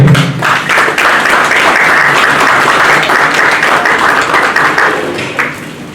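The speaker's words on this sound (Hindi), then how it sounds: "ताली के साथ स्वागत करें" An indoor audience gives sustained, loud applause to welcome an awardee at a Rajasthan women's self-help group event in Banswara district, with dense clapping throughout that tapers slightly at the end.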